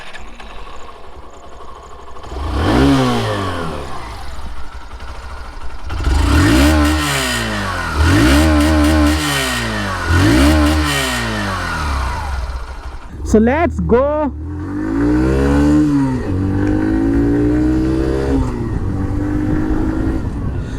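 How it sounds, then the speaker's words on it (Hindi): A Hero Glamour 125 BS6 motorcycle starts up and its engine revs in several loud rising-and-falling bursts, exhaust note clear and close, with someone speaking briefly before and between the revs. "इस गाड़ी को स्टार्ट करते हैं, एग्जॉस्ट नोट सुनते हैं"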